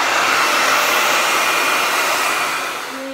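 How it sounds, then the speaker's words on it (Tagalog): A hair dryer blows steadily on freshly washed hair, a loud, even broadband whoosh that holds for about three seconds before tapering slightly at the end, with no talking. "Ngayon, ibablower ko na ang aking buhok."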